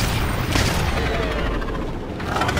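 Gunfire from a test-fired weapon in Crysis Remastered, a dense, continuous barrage of shots that stays loud and steady throughout, with no voices.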